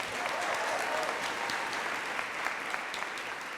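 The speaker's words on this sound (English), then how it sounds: "A round of applause for Katuna." Audience applause for an event organiser at a Father of the Year awards ceremony, a sustained, even patter of many hands with faint voices mixed underneath.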